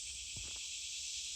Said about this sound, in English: I'm videotaping the cicadas